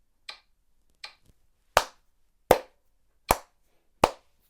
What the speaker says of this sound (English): I first just like you to try and clap along, see if you can match this beat